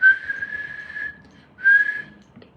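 A man imitates a flirtatious whistle aimed at a woman: two bright, sustained whistled tones, the first about a second long, then a short gap and a briefer second whistle, close and clear with no other sound.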